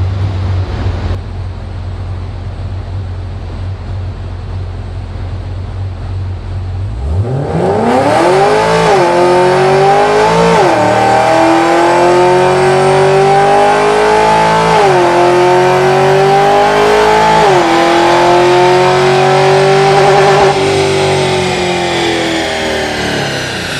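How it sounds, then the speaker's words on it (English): An automatic Chevrolet Camaro SS accelerates hard from idle through several upshifts, its engine tone climbing and dropping at each shift. It runs up to a hard-coded 5,800 rpm rev limiter in fifth gear, loud and continuous, with no talking. "So you guys probably heard the limiter at the top of 5th gear"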